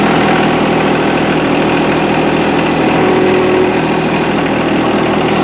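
A tractor engine idles and runs loudly and steadily nearby, a constant droning rumble with no breaks and no speech over it.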